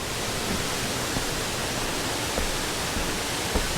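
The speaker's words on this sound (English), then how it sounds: "And there's a beautiful lower tier of Lilydale Falls." Lower tier of Lilydale Falls, a waterfall in Tasmania, gives a steady, even broadband rush of falling water with no talking.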